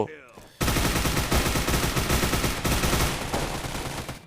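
Rapid automatic gunfire from the budget mobile shooter Hazmob FPS, a loud dense burst that starts abruptly and keeps rattling for several seconds, fading slightly toward the end.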